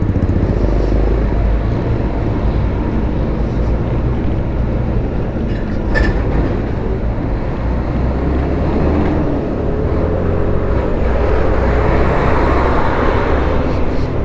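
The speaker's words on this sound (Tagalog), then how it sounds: "itong malalaking truck na dumadaan talaga, na nakakasira ng kalsada." Large quarry trucks roll past on a damaged road with a loud, continuous rumble and rattle, close by and steady from start to finish.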